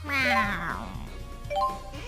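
A cat meows in the Tales of Xillia 2 video game, one drawn-out, falling cry up close at the start, then a softer, shorter mew near the end over faint game music.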